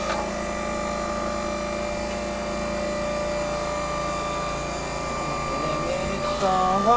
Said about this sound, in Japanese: 次はですね、電動巻き割り機ですね、の ELS10。